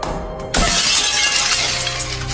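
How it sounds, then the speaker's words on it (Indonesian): Glass window smashed by a hit: a sudden loud crash of shattering glass after a short quiet lead-in, followed by a dense spray of tinkling shards that carries on to the end. "Dia memakai penalas untuk memecahkan kaca, lalu menyemprotkan air ke situ."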